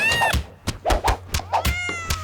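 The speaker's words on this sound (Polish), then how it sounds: "Ej, patrz, koty się leją." Cats fighting and yowling, a rapid series of harsh meows and caterwauls with sharp knocks and thumps between them, loud and close.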